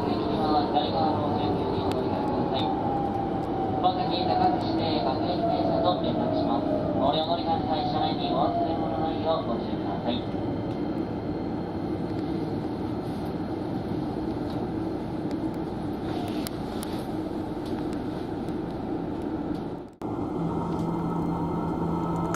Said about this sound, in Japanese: 列車は桂駅に到着です